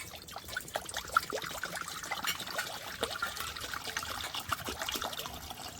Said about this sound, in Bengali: কড়াই বসিয়ে দিয়েছি, কড়াইতে এবার জল দিয়ে দেব।